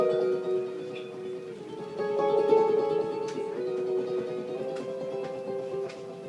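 A ukulele strummed softly with the insides of the index finger and thumb gives a quiet, wispy run of chords, repeated strums blending in a gentle, airy wash close by.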